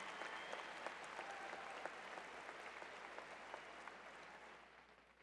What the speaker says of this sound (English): Please join me in applauding the achievements of these honored